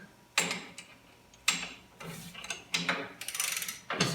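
A hand tool works loose the drawbar fittings on a 1948 International Super A tractor, giving a series of close, ratcheting metallic clicks and scrapes in irregular bursts.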